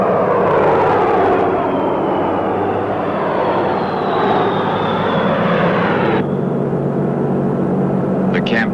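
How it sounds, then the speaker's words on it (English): Vintage B-17 bomber piston engines converted for dropping insecticide drone loudly and steadily throughout, a continuous broad roar with a slowly shifting tone and no speech. "A fleet of vintage B-17 bombers was converted to drop insecticide."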